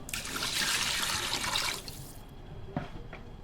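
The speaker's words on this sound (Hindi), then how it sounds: "साथ ही इसके अंदर हम शामिल कर देंगे 2 गिलास भर के पानी" Two glasses of water poured into a pot of cumin rice seasoned with salt give a steady, close splashing gush for about two seconds, then a couple of faint knocks, with no talking.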